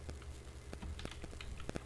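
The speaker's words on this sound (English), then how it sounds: "I'm going to start typing some variables." Keys on a computer keyboard clack in an irregular patter of quick, crisp taps, faint and close, with no talking.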